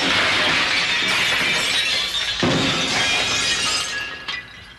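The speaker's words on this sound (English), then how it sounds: "It was glass crashing." Glass shatters and crashes in a loud, sustained burst of breaking with bright tinkling shards continuing for several seconds before trailing off.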